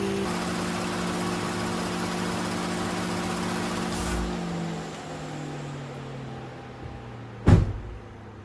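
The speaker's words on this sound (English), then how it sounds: "the car is warming up, just giving it 5 minutes warm up" A car idles steadily while warming up during an oil change, a low even engine drone that softens midway, followed by a sharp single knock near the end.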